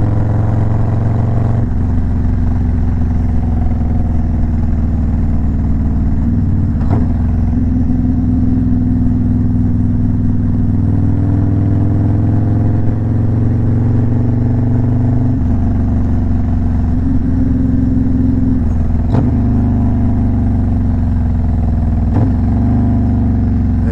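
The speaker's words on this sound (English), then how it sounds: "It's like I'm kind of in like a love-hate relationship with my exhaust sound." A car's exhaust drones steadily at close range, its pitch rising and falling slightly with the revs, with brief clunks along the way.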